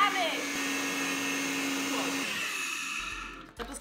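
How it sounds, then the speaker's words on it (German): A kitchen blender whirs loudly while mixing cream and quark, a steady high motor whine that winds down near the end, followed by a short clatter. "Und ich hoffe, mein Mixer ist stark genug."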